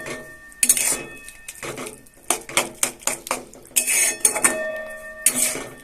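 A utensil scrapes and clinks against a pot while Achari chilli Maggi noodles are stirred. The clatter is close and busy, with irregular metallic taps and scrapes, and a few short bursts are sharper and brighter.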